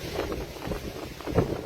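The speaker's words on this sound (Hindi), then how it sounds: "तेज हवा है, क्या बात है।" Strong wind blows outdoors near a hut, a constant rushing roar buffeting the microphone with low gusty rumbles throughout and no speech.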